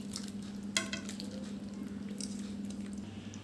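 Eggplant and hilsa fish curry simmers and sizzles steadily in a pan, with a brief clink of a utensil near the start and a soft bubbling patter throughout.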